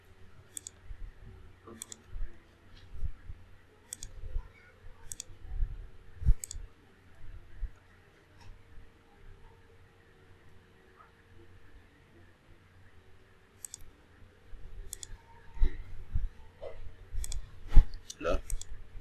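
A computer mouse clicks during 3D modeling work, with sharp single and double clicks in scattered bursts and a quiet stretch in the middle, close and crisp, with occasional low background noise.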